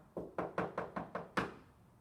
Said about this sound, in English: One day, Elephant heard a knock at the door.